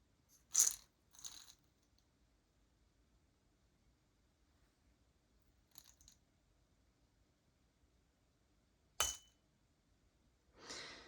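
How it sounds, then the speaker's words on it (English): A few sharp, dry clinks from a light mallet striking a maraca, spaced apart with quiet gaps between, close and fairly soft, no ringing tail. "that was a clink and not a ring, like a beautiful bell would sound"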